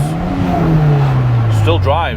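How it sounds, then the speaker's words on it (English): A 1999 VW Golf MK3 Cabriolet with a manual gearbox drones steadily at low pitch through a fumbled, missed gear change, engine pitch sliding as the shift goes wrong, with people talking over it inside the car. "apart from when you miss gear like that"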